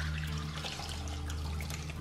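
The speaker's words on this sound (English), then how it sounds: "I'm gonna drain my cranberries off in here. I'm gonna just pour that water off" Water from boiled cranberries pours off into a container as they are drained, a short, steady rush of liquid close by with no talk.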